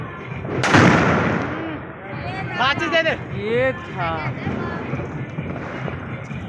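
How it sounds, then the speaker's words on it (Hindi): A single sharp firecracker bang cracks loudly near the start, followed by people talking and shouting nearby. "उन्होंने माचिस लिया, वो जला रहे हैं पटाखा।"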